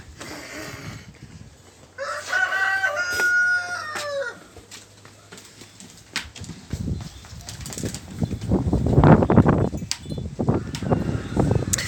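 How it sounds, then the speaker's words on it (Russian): A rooster crows a few times with harmonic calls at moderate distance in a yard on a strongly windy day, followed by rustling and flapping-like noise growing louder. "Чей-то петух тоже подпевает."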